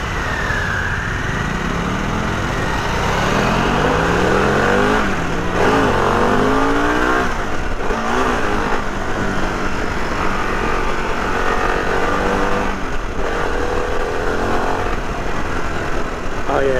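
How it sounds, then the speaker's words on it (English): Engine of a 2021 Harley-Davidson Pan America Special motorcycle on a test ride, a steady loud drone with rising and falling revs as it accelerates, mixed with wind noise throughout. "Oh yeah, this engine is nice."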